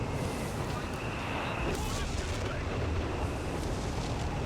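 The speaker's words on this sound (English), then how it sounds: "artillery down on the AATs" Artillery fire in the real-time strategy game Company of Heroes 3, heavy rumbling booms and blasts layered under constant battle noise and a commentator's voice, with a sharper burst near the midpoint.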